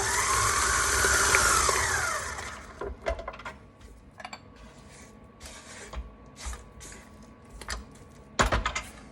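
An electric mixer whirs for about two seconds as vanilla extract is beaten into monster cookie bar batter, then stops, leaving scattered clinks and light scraping.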